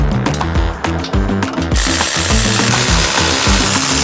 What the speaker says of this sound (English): We're going to tighten the bolts up just to make sure they stay in the right position.